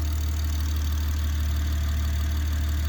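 A BMW B58 engine idles steadily after a Dorch Engineering high-pressure fuel pump has been installed, giving a constant low hum with a faint even tick running underneath and no talk over it.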